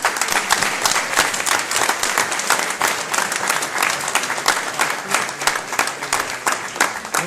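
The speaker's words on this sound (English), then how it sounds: "final applause for Emanuela." Sustained audience applause fills the room at the end of a talk at a tech meetup event, dense steady clapping from a large crowd, loud and continuous without a break.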